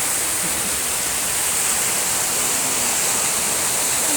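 Steady broadband roar of the Agoriani waterfall in Greece, a constant rushing wash of falling water heard close and loud throughout with no break.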